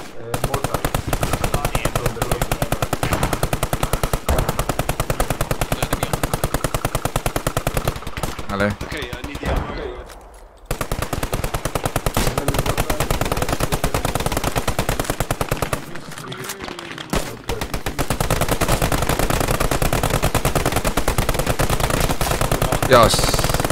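Rapid video game machine-gun and rifle fire from a squad defending difficult terrain, loud dense bursts running almost continuously, with brief lulls around the middle and faint radio-style voices mixed underneath.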